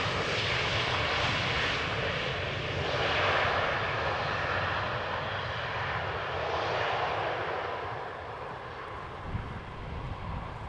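A Boeing 777-300ER arriving at Amsterdam Schiphol Airport roars steadily overhead, a loud, broad engine rumble that swells and then slowly fades toward the end.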